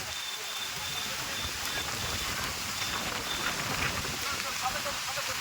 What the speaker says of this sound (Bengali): প্রচুর পরিমাণে বৃষ্টি আসছে কিন্তু, এই দেখো কত পরিমাণে বৃষ্টি হচ্ছে দেখো।